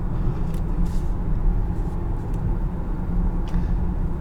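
A 2022 Infiniti QX60 three-row crossover cruising on the road, a steady low engine and tire rumble filling the cabin with a few faint higher ticks, no voices.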